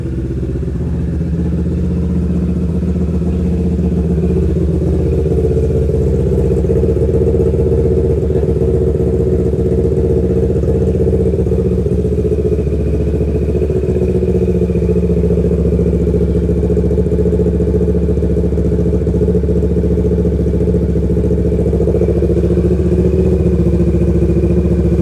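Motorcycle exhausts from a Honda CB650R, Triumph Trident 660 and a Kawasaki rumble loudly and continuously up close, a deep steady engine drone with slight swells in pitch throughout.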